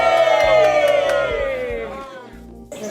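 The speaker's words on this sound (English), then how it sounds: "saying bye with a big cheer" A group of people on Armona Island in the Algarve lets out a big farewell cheer together, loud and close, a sustained shout that tapers off over a couple of seconds.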